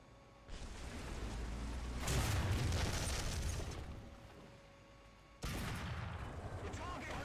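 Tank cannon fire in War Thunder booms through game audio, with a heavy blast followed by a long rumbling decay and a second sharp shot a few seconds later.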